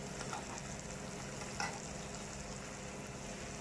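Chicken with garlic sizzles gently in a pan over a low flame, a soft, continuous crackle with one brief clink of a utensil partway through.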